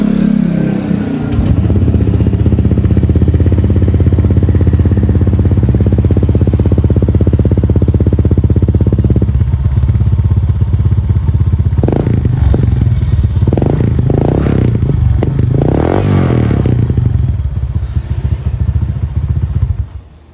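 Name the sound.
Honda Click scooter engine with modified MT8 exhaust pipe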